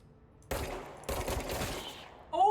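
Gunfire aimed at an enemy in the video game Control, two loud bursts of rapid shots separated by a brief pause, followed by a short tonal electronic sound at the end.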